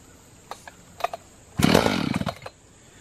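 Echo CS-590 Timber Wolf chainsaw pull-started on choke: a couple of short starter-cord pulls, then the engine catches and roars loudly for about a second before sputtering out, close by with no talking.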